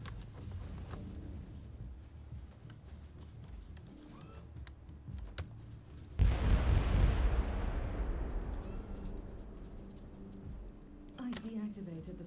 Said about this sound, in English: The Imperial Navy has launched Marauder bombers as a counterattack. They will bomb the entire area.